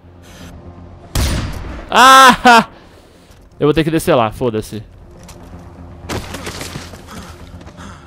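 Gunfire in the video game Far Cry 4 during an airport assault, heard as a few short bursts and booms between loud excited speech from a player; the shots are brief and partly masked by the voice and game sounds.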